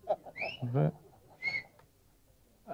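Audience members whistle at the Gopyam Telugu movie audio launch event: two short, shrill whistle bursts rise over crowd noise and a speaking voice in a large hall.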